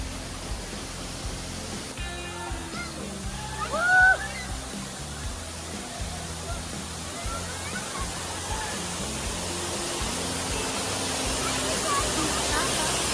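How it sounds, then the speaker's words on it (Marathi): Dhangar waterfall, a huge, powerful cascade near Badlapur in the rain, heard as a steady broad roar that builds slightly toward the end, with a few brief voices and tones over it near the start. "समोर आला धनगर वॉटरफॉल, एक रौद्र भीमकाय धबधबा."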